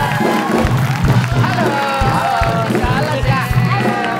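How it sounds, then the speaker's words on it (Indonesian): A television studio audience applauds and cheers to welcome guests Chika and Ashel, a loud crowd with rhythmic clapping and shouts, overlaid by excited voices and music close by. "Ya, beri tepuk tangan yang pria untuk Cika dan Asep."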